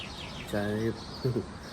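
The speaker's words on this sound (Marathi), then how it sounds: "मस्त पक्ष्यांचा आवाज येतो" Morning birdsong heard from a gallery, two short tonal chirping calls, the second briefly broken, faint over a soft steady background.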